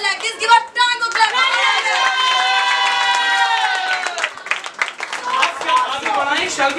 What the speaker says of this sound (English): Give a tango clap.